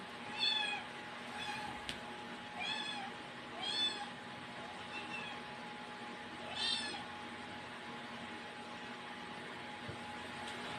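A cat meows repeatedly, about five drawn-out cries spaced a second or two apart, over a steady low hum of room noise.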